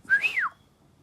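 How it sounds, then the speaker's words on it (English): A person whistles a short rising-then-falling tune toward a bird egg, clear and close, about half a second long with quiet afterward. "You can whistle to the egg."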